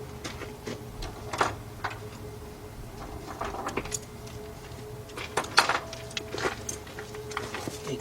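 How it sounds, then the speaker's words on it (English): A 12mm deep socket on a ratchet tightens bolts during a timing belt and water pump job on an Acura SLX / Honda Passport / Isuzu Rodeo, giving faint, irregular clicks and metallic taps in a quiet garage. "let's get our socket and tighten those bolts up"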